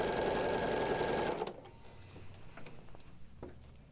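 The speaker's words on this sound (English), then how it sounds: "So we're just stitching this long, long, long seam in place." A sewing machine runs fast along a long seam of quilt backing, a dense whirring stitch that stops abruptly partway through, leaving faint ticks and clicks behind.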